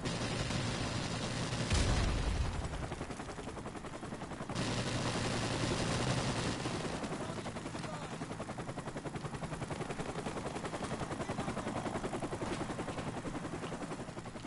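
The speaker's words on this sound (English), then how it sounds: "I'm gonna try to go in with the machine gun" Sustained automatic weapon fire from a machine gun in a video game, dense rapid bursts running almost the whole stretch, loud and close, with a heavier blast near the start and no talking.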